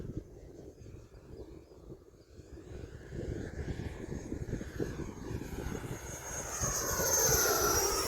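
An E-Flite 80mm F-16 Thunderbird RC ducted-fan jet makes a fast pass, its whooshing whine building and shifting in pitch as it approaches and flies by, with some wind noise.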